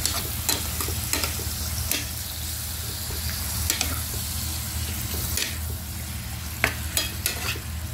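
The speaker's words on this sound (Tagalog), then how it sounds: "Halo-haloin muna natin." Squid adobo being stirred in a pan, with a steady sizzle of frying and repeated scraping stir strokes, moderately loud and close, with no talk.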